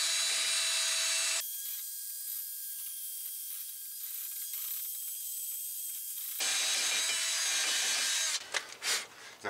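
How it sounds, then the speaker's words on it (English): Metal scraping and grinding on the front wheel hub of a 2012 Dodge Ram Bighorn 1500 with the rotor removed, a steady harsh rasping that runs for several seconds with a brief louder burst and clattering handling noises at the end. "Now we're gonna get the hub surface all cleaned up."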